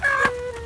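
A chicken gives a single short cluck, close and clear, with a faint background after it.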